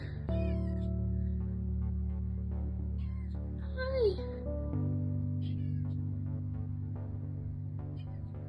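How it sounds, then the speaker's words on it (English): An 11-week-old female kitten gives a short, high meow near the middle, faint against a steady droning hum that fills the background. "She's just a kitten, she's 11 weeks old, I think."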